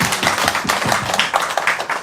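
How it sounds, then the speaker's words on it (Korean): A church congregation at a Sunday worship service gives a round of applause, a thick, continuous wash of many hands clapping with rhythmic pulses, steady and moderately loud throughout. "감사의 박수를 하나님께 드리겠습니다"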